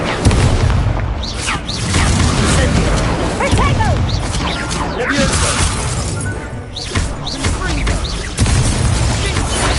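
A fire spell cast in the video game Hogwarts Legacy: a dense, loud burst of whooshing, crackling magical effects with repeated shattering, booming impacts layered over game music and ambience, no clear pause throughout.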